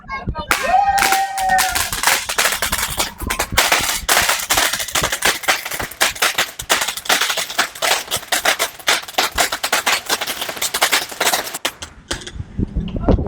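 A Sivakasi Volcano Diwali firecracker crackles and pops continuously for over ten seconds, a dense stream of sharp bursts close by, with a voice calling out briefly at the start.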